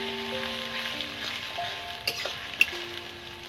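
Ginger paste ground on a stone slab and green chillies frying in a pan, giving a steady soft sizzle with a couple of brief scraping clicks from stirring. Faint tones run steadily underneath.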